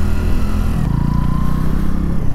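A motorcycle rides through traffic while engine braking, its engine droning steadily and loudly close by, with wind rush and no voices.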